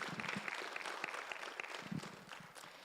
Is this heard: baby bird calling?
no